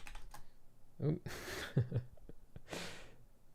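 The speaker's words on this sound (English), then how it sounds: "So this, if I type this, is a message." Scattered clicks of typing on a computer keyboard sound close up, broken by soft breaths and vocal sounds.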